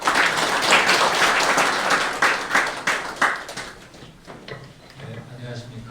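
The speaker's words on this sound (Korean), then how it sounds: "박수로 환영해 주시기 바랍니다." Seminar audience clapping to welcome a professor, a loud, dense burst of applause that thins out and fades into room noise after a few seconds.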